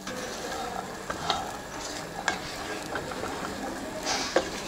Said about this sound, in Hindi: और चना को अच्छे से मिक्स कर लीजिए।